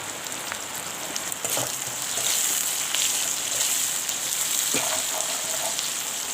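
Spices with fresh green chillies and salt fry in a pan for a chicken dish, a continuous close sizzle with occasional stirring scrapes and clinks, growing slightly louder partway through.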